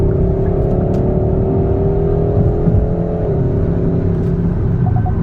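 A 2021 Hyundai Sonata N Line accelerates on a freeway to pass, its engine drone climbing steadily under loud wind and tire roar from inside the cabin, with no talking.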